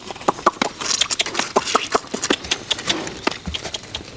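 A person makes sharp mouth clucks toward a horse, a loud irregular series of short clicking pops near the microphone, like a voice imitating hoofbeats.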